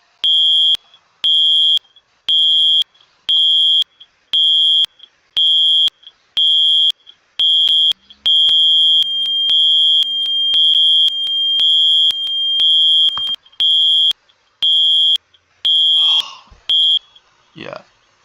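Roblox fire alarm system sounding a steady series of sharp, evenly spaced electronic beeps that run almost continuously near the mic, with a voice speaking over the later part.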